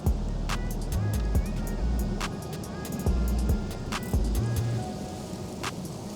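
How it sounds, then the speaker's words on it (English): An MJX H18P Bronco RC truck climbs a sandy slope, its small electric motor whining and rising in pitch in repeated bursts, with gritty scrabbling of tires on sand close by. "The truck is going uphill."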